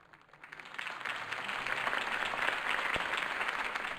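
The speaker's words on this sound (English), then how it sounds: "If only Mr. Wayne, my campaign's largest backer, could have heard that applause" Steady crowd applause in Batman: The Telltale Series following a campaign speech, swelling in over the first second and holding at a full, dense level, with no voices standing out.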